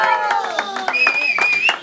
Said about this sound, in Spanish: Y ese aplauso fuerte para ella.